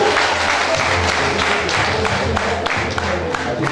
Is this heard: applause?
yes